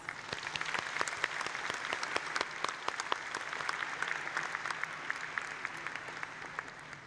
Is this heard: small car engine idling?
no